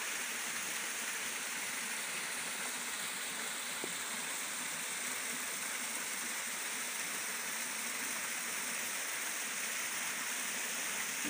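Waterfall with flowing water: a steady, broadband rushing roar filling the whole stretch evenly without pause, no voices standing out above it.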